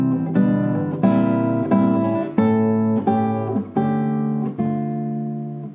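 Nylon-string classical guitar plays a phrase from Carcassi's Study Op. 60 No. 2, starting on C: a sequence of clear plucked notes and chords at an even pace, each attack ringing out, close and moderately loud with no talking.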